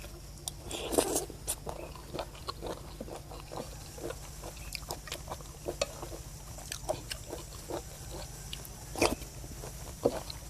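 Crunchy chewing of cooked bolete mushroom curry comes close to the mic as scattered, irregular crisp bites and mouth sounds, fairly quiet and without talk.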